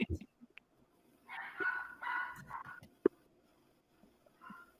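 A dog barks in short bursts a few times at a moderate distance, with faint background noise between the barks.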